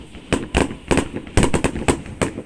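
Fireworks at a summer festival in Tsuyama, Japan, burst in a quick irregular string of sharp booms and crackles, close and loud.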